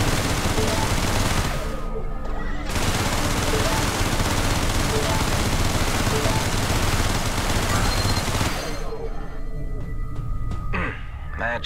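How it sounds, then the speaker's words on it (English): Ship guns in the space game EVERSPACE fire at a mineable asteroid, a dense continuous barrage of rapid shots and blasts that fills the whole stretch, loud and up close, with a short gap early on. "There is a mineable asteroid nearby. Shoot at it to extract fuel."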